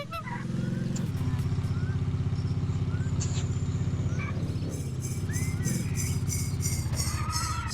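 A motorcycle engine runs steadily and close throughout, a low rumbling drone with some clatter over it, setting off for a ride.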